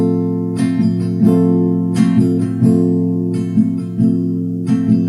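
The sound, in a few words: guitar strumming pattern down up down up down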